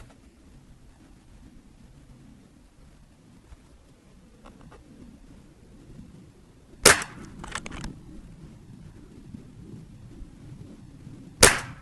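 A NIKSAN ELF-W .22 air rifle fires two sharp, close cracks several seconds apart against a quiet outdoor background, the first followed by brief rattling clicks.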